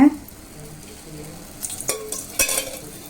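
Two spoons of oil heating in a pan for tempering tamarind chutney, a low constant sizzle with a few sharp clinks and scrapes of a spoon against the pan, close and moderately loud.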